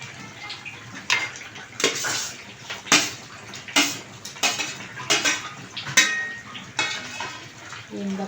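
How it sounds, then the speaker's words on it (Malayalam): Dates go into a bowl of sweet and sour mango pickle with repeated sharp clinks and scrapes of a utensil against the dish, arriving in irregular bursts about once a second at close range. "ഇനി ഇതിലേക്ക് ഈന്തപ്പഴം ഇടുന്നുണ്ട്."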